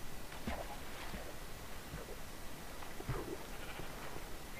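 Sheep bleating in Minecraft 1.8, several short blocky bleats scattered over a steady noisy game background, moderately faint with no talking.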